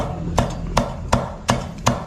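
Five sharp knife chops through coriander striking a cutting board at an even, unhurried pace, close and crisp, with nothing else around them.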